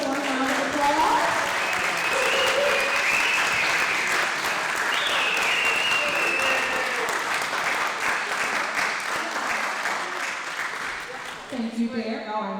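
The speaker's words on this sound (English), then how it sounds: "Please give her a warm round of applause." Warm audience applause at a county Republican Lincoln Reagan Trump dinner, sustained clapping from a crowd with voices mixed in, strong at first and tapering off toward the end as talking resumes.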